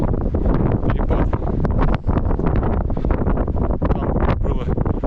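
Fierce blizzard wind on a rocky taiga ridge in winter, loud gusty buffeting that batters the microphone close up, continuous and rough throughout.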